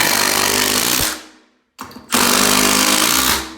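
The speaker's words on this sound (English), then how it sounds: "Use the old trusty Milwaukee. Go ahead and run some 3s in there." Loud Milwaukee impact driver sinking 3-inch screws into a 2x4 while a shower is being framed, with two sustained hammering bursts separated by a short pause, close and dominant.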